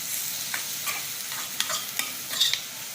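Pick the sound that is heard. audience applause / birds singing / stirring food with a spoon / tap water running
stirring food with a spoon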